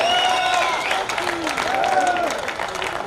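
Audience at a Hindi poetry gathering (kavi sammelan) in Vidisha claps loudly and continuously, with a voice with tonal, sung-like inflections carrying over the applause.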